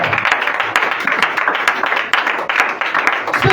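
Congregation at a French-language church service breaks into applause, a dense wash of many hands clapping steadily and loudly throughout, with scattered voices mixed in.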